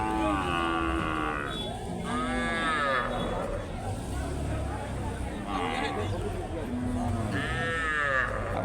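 Farm bulls suited for rearing and meat moo several times in long, drawn-out calls, some near and some farther off, over constant background noise and people talking.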